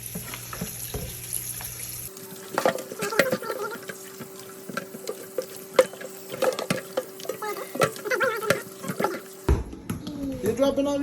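Raw pork being washed under running tap water in a kitchen sink, with intermittent splashing and sloshing while people talk nearby.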